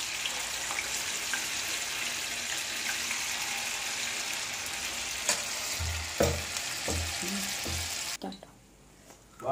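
Unniyappam batter frying in hot oil in an appam pan, a loud steady sizzle with several knocks and taps near the end before the frying sound cuts off abruptly, no voices.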